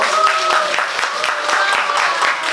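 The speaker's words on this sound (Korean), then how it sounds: "박수 부탁주세요" An audience gives lively applause, distinct claps close and continuous, while a voice talks over it throughout.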